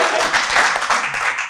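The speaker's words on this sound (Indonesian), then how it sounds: "Tepuk tangan yuk buat kita semua yuk." Audience applause at an Indonesian stand-up comedy show, a dense, steady wash of many hands clapping close by, lasting throughout with slight swells.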